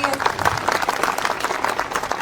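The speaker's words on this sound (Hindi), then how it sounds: "एक बार जोरदार तालियां बजा लो आदरणीय मंत्री जी के लिए" Audience applause for a minister at a Hindi-language political speech event, a dense crowd clapping steadily for a couple of seconds with voices mixed in.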